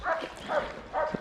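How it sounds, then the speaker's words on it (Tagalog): A dog barks three times in quick succession, short yips at moderate distance, fairly faint against quiet outdoor background. "May aso."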